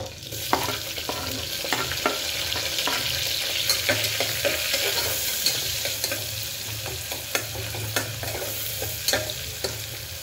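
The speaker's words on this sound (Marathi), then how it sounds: "कांदा लाल होईपर्यंत थोडंसं वेट करूया." Onion frying in a pan, a continuous close sizzle with occasional crackles and a soft low hum beneath, steady and unbroken for ten seconds without any voices.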